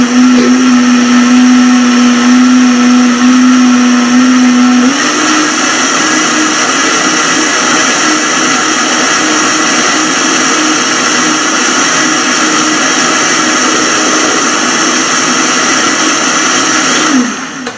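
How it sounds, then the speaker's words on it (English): Powerful Vitamix blender whirring through milk, coconut oil, lecithin, salt and sweet cocoa, loud and close with no lid on; the motor pitch climbs after a few seconds and holds a steady high roar before cutting off. "we've got milk, coconut oil, lecithin, salt, sweet cocoa. And we're just going to blend."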